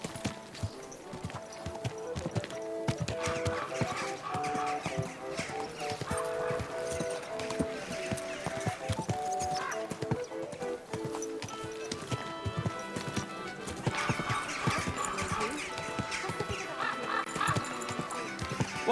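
Horse hooves clip-clopping with neighing and whinnies in Kingdom Come: Deliverance 2, set against a busy medieval game soundscape with music-like tones and occasional voices.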